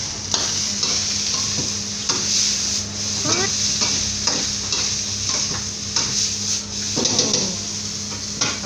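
Eggplant omelette fries in a pan, a loud, close sizzle running throughout, punctuated by repeated scraping and stirring strokes from a spatula.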